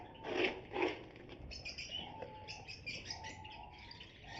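A breeder pair of lovebirds chirping, two louder calls early on followed by a run of quick faint tweets and squeaks, close but soft.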